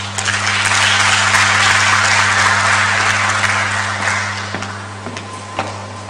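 An audience at the NASAC science forum in Tanzania gives a loud, dense round of applause that holds steady, then thins slightly toward the end over a low hum.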